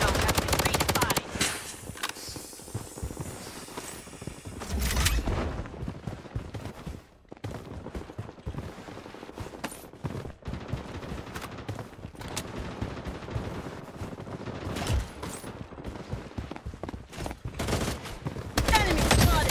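Sustained gunfire in the mobile shooter Blood Strike, dense automatic bursts and rapid shots rattling almost continuously with brief gaps, loud and close, mixed with game alerts.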